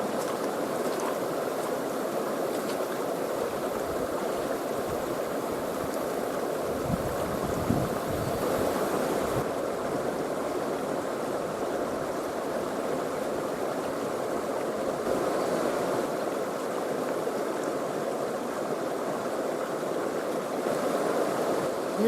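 A shallow creek flows steadily over rocks outdoors, a continuous broad rushing wash of moderate loudness with some wind noise on the microphone and no voices.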